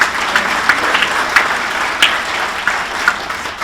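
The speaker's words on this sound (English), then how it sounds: "a big round of applause for Shelter Insurance Agent" Audience at a sports hall of fame induction ceremony applauds a Shelter Insurance agent, with dense, even clapping from a crowd that holds steady and moderately loud throughout, no speech over it.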